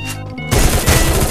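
Automatic gunfire from a Parafal evo gun shooting at an enemy in a mobile shooter game, a loud dense burst that starts abruptly midway and runs to the end of the brief moment.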